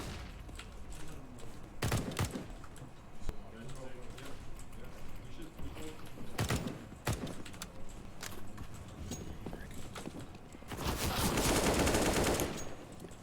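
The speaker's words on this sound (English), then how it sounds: "Excellent AK shot off from Huff" AK rifle fire in the Counter-Strike video game rings out as several sharp, separate shots scattered across the clip, followed by a denser burst near the end, heard under ongoing commentary.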